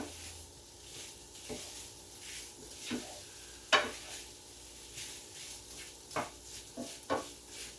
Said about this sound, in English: we're just going to seal it by frying it